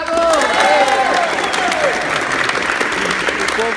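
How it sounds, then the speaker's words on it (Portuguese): Loud applause from a crowd at a Muay Thai gym, steady clapping mixed with some cheering and voices throughout. "Salve de palmas, obrigado!"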